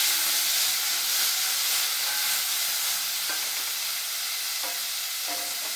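Turkey berries and tomato sautéing in a pan, a soft steady sizzle and hiss with a few faint stirring knocks near the end, fairly quiet and with no talk.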